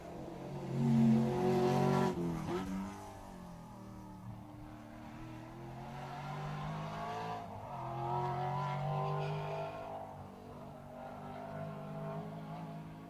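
Triumph TR7 rally car at a rally stage, its engine note rising and falling through revs some distance off, a steady droning roar with a few surges, fairly faint.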